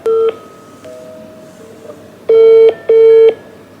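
A phone number is dialed on a telephone keypad: a series of distinct DTMF tones, a short one, a longer run of tones, then two long steady tones near the end, sounding alone and close.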